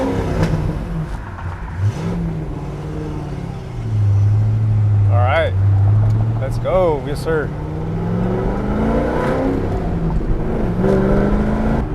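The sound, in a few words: car with LS engine revving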